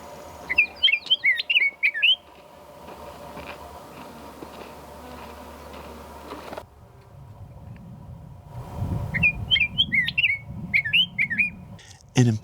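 A male Scott's oriole sings rich whistled phrases in the desert along the Pacific Crest Trail, two clear bursts of song at the start and end with quieter ambient sound and insect buzz between.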